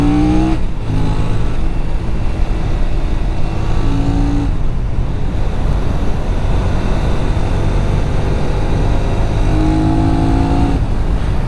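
Benelli Tornado 550 Italian sport bike engine runs loud and close while riding, rising in pitch through gear changes with brief dips between each climb, steady throughout.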